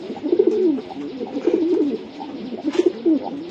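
Pigeons in a racing-pigeon loft coo in soft, rolling, repeated calls that come close and fairly loud against a faint background murmur.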